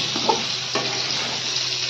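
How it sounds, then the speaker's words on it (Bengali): Spiny gourd (kakrol) slices frying in a pan give a steady, close crackling sizzle with a couple of small pops, unbroken and without any talking. "কত সুন্দর ভাজা হচ্ছে, একদম লাল হয়ে যাচ্ছে"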